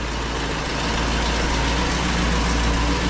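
A 1968 Pontiac Firebird convertible engine idles just after firing up, a steady, close, deep rumble with a throbbing low-end pulse and no talking over it.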